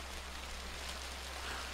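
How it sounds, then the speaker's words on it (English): Hail beats steadily on a front porch, a dense, even crackling patter with no distinct separate hits, continuous and moderately loud throughout. "A storm of hail beats and bashes upon my front porch, crackling and crashing."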